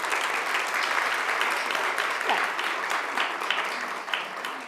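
Steady, dense studio-audience applause at a talk show taping, sustained throughout without a break.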